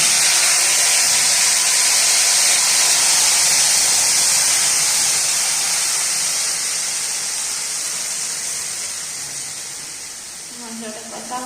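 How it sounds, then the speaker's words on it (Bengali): Ginger-garlic paste and spices fry in a pan for chicken kosa, a steady loud sizzling hiss that slowly fades toward the end, with no talk. "মশলাটা কষা হচ্ছে, আদা রসুন পেস্ট কষা হচ্ছে।"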